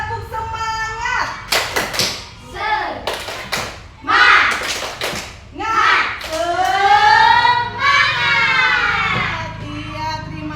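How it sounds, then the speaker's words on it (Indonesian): Schoolchildren in a classroom chant together while clapping in a rhythmic spirit routine, sharp grouped claps alternating with loud sung-out voices in a bouncy, patterned sequence. "Coba tepuk semangat dulu. Tepuk semangat."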